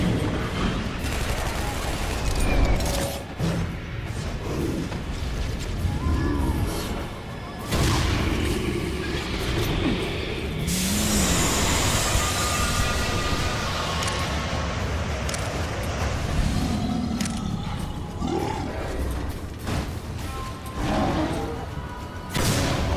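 A rocket launcher fires repeatedly at a boss in the first-person shooter Shadow Warrior, with heavy booming blasts and explosions over dense battle noise, loud and close, continuing throughout with brief lulls.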